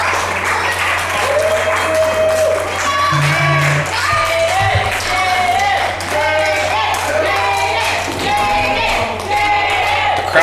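A wrestling arena crowd at a GLWA Recoil 2021 show cheers and applauds steadily for the defeated Jaden Quick, a loud dense roar of clapping and voices under a commentator's talk.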